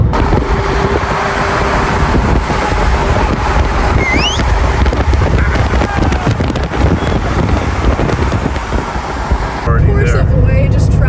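A Plymouth Savoy bare chassis carrying a Hemi engine rolls down the road, heard as a loud, continuous roar of road and wind noise, with a brief high squeal near the middle and a change in tone toward the end.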